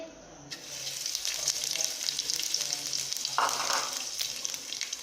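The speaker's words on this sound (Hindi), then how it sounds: "ज़ीरा फ्राई हो चुका है।" Cumin seeds frying in a small amount of hot oil, a bright continuous crackling sizzle that starts abruptly and holds steady at close range, with a brief louder burst of spattering partway through.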